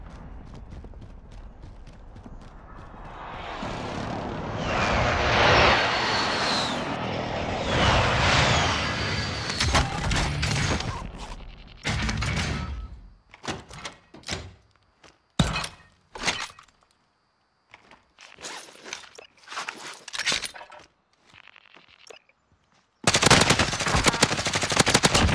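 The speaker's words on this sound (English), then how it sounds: "Enemy precision airstrike." Precision airstrike in Call of Duty: Modern Warfare, heavy explosive blasts and rattling gunfire bursting in loud clusters, broken by short gaps and ending in a sudden loud roar.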